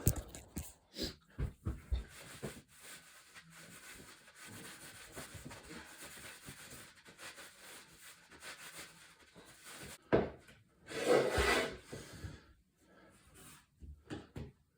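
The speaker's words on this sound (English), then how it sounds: "I despise sanding." Repeated rough rubbing strokes of sanding on a kick drum's wood shell, close and uneven in rhythm, with a few louder scrapes near the end and no voices.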